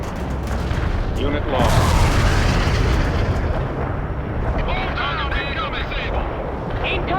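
Artillery and gunfire in World in Conflict make a dense, continuous barrage of booming explosions and rattling shots. A radio voice speaks over the loud, sustained battle noise.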